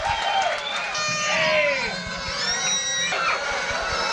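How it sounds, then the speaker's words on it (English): At a 1983 New Year's party stand-up show, a comedy club crowd greets comedian John Fox with whoops, shrill whistles and cheering over a layer of clapping. The loud, lively reaction is continuous throughout. "how about a nice round of applause?"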